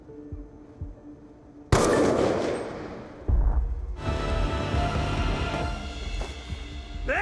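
Gunfire in the shooter game Call of Duty: Black Ops II, a sharp loud shot bursting out of quiet ambience, followed by a second heavy blast and lingering rumbling battle noise.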